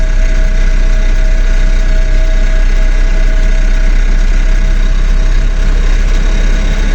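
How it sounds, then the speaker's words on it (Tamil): A vehicle engine runs at idle inside a shaking cabin, producing a loud, steady low drone and hum with constant vibration throughout. "பார்த்தீங்கன்னா வண்டி உதறது நல்லா"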